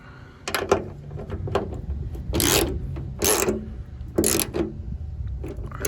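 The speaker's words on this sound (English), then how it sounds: "just tighten it down. Snug it up and then move it where you want." A ratchet tightening a hood strut bolt on a Ford Focus ST, close raspy clicking strokes in several short bursts with pauses between them, no talk.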